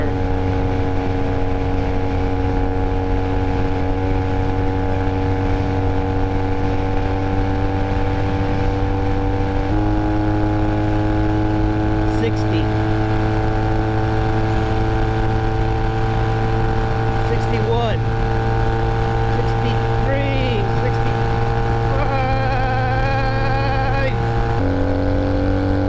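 Steady engine drone of a Honda Rebel 250 motorcycle while riding, continuous harmonic buzz with slight pitch shifts as throttle changes, plus wind rush, loud and close throughout.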